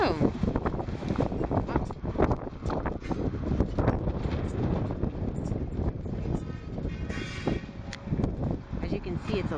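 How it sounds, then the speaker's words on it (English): Gusty wind buffets the microphone outdoors in Big Pine, California, a steady low rumble with louder gusts running under nearby conversation throughout. "it's a little windy in Big Pine today"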